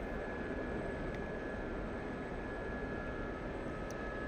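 An SA-342 helicopter in the DCS flight simulator flies with a constant, dense rotor and turbine roar, steady and loud with a faint high whine running through it.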